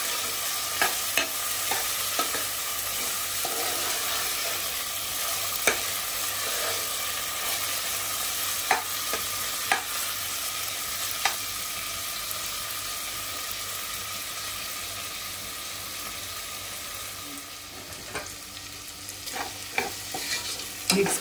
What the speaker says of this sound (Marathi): कांदा टोमॅटो चांगला मऊ शिजवून घ्यायचे।